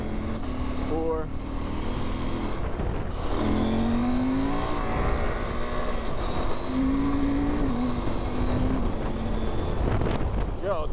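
A Norden adventure motorcycle on a backcountry trail accelerating hard with quick-shifted upshifts, the engine note rising and dropping between gears under heavy wind noise, while the rider talks.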